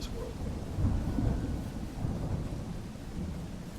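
Rain falls steadily in the Smalland game world while low rolling thunder rumbles underneath, swelling and fading in a continuous storm bed with no speech.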